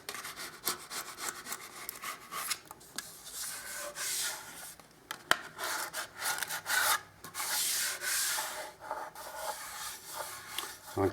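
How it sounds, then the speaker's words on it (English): Leftover Liquid Nails construction adhesive is scraped off a surface in quick, rough, rasping strokes. The strokes are close, uneven in rhythm and fairly quiet, with no talking. "I'll just scrape away the rest of this adhesive."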